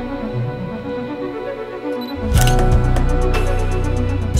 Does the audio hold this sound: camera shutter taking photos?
yes